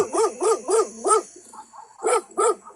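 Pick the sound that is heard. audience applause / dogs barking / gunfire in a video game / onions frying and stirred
dogs barking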